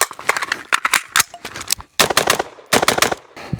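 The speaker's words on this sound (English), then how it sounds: "You're going to conduct a reload, 3 rounds per target." Rifle fire during a close-quarters reload drill, three rounds per target: loud, sharp shots in rapid bursts of about three, broken by a short pause for the magazine change, with no talking.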